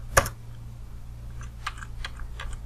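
Typing on a computer keyboard while entering ifconfig commands: one sharp keystroke near the start, then a few light scattered clicks, close and quiet against a low steady hum, with no talk.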